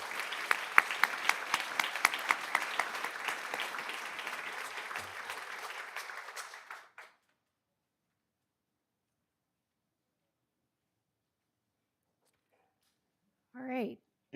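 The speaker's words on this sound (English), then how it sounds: "can we please, through a round of applause, recognize our students who earned podium success" Applause from a school board meeting audience honoring students, a steady dense clapping that fills the room for about seven seconds, then stops abruptly into silence; a brief voice is heard near the end.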